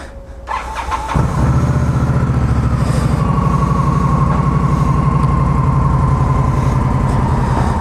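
An Indian Scout motorcycle engine cranks and catches, then settles into a loud, steady, throbbing idle close by, with no talking.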